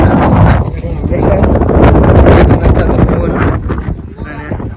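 Heavy, rumbling wind buffeting the microphone outdoors at a film shoot, loud and continuous throughout, with a voice partly buried beneath it.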